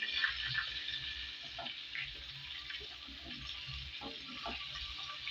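Potato pieces frying in oil in a pan while being stirred, a quiet, steady bubbling sizzle with soft scraping and light clatter close by, no talking.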